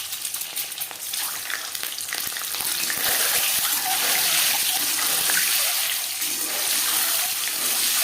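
Eggs fry in hot refined oil in a salted wok for an egg curry, giving a steady, loud crackling sizzle that builds after the first few seconds and continues without pause, with no voices.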